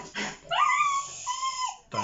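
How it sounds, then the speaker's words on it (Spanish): Dogs nearby let out a short yip, then a drawn-out whining whimper that wavers and falls, followed by a second sharp yelp at the end; the sounds are close and clear, with no talking. "están aquí los perros"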